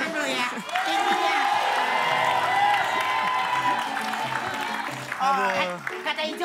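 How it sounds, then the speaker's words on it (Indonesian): Studio audience clapping on an Indonesian TV comedy talk show, a sustained wash of applause with some cheering, running under voices and music-like tones before fading as talk resumes. "Oke, kita tepuk tangan dulu ya."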